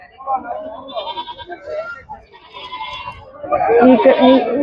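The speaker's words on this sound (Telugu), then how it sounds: "ఇవి వచ్చేసి పళ్ళ గొర్రెలు ఉన్నాయండి ఇక్కడ" Sheep bleat repeatedly amid a crowd of voices and livestock noise at a livestock market in Chillakallu, the bleats growing louder and more frequent toward the end.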